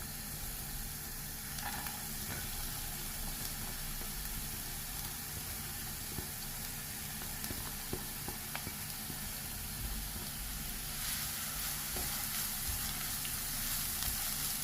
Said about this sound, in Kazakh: сиырым сарғайғанша қуырмаймыз, жұмсарғанша қуырамыз.